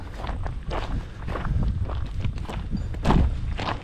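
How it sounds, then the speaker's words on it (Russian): Someone runs across sharp rocky ground on an island at night in strong wind, thudding footsteps landing in an uneven rhythm, fairly close and moderately loud against a windy background. "Вон там кто-то бегает."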